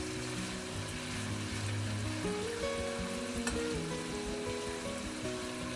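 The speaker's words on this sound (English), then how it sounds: "Then turn to medium heat and continue frying for 2 minutes." Chicken thighs frying in a covered pan over medium heat, a steady close sizzle and crackle of hot oil that holds without a break, with occasional stirring or lid noise and no talk.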